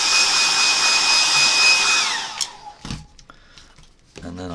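A hair dryer blows steadily up close while drying a pencil-and-ink pangolin drawing, a loud whooshing whine that shuts off and winds down after about two seconds, followed by brief soft handling noises.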